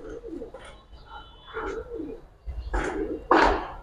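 Giribaz and colored pigeons cooing at close range, soft repeated coos in irregular bursts that grow louder and fuller toward the end, with no talking.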